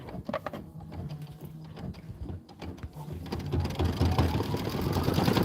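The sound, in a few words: embroidery machine stitching a satin outline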